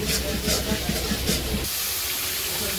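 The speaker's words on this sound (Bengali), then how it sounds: "হলুদ মরিচ দিয়া তারপরে লবণ, আদা রসুন বাটা সব দিয়ে মশলা কষাই নিতেছে" Turmeric, chili, salt and ginger-garlic paste sizzle in a pan in a village kitchen, a steady close hiss with soft rhythmic crackle that calms to a quieter fry near the end.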